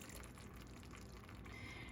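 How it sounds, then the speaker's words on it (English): Milk pours into thickening milk gravy in a soft, continuous trickle, faint and brief, with no talking. "So what I'm gonna do is just pour some in."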